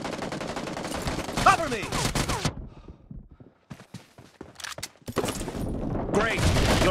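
Rapid gunfire bursts from the mobile battle royale game BGMI, loud and dense at the start and end with a quieter stretch of scattered shots in between, while a player speaks briefly over the action.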